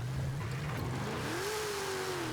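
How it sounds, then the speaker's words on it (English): A car engine in Forza Horizon 5 revs hard in fourth gear, its steady drone climbing in pitch midway and holding high, loud and close with no talk. "I have to keep it really high in the revs in fourth or else it's over."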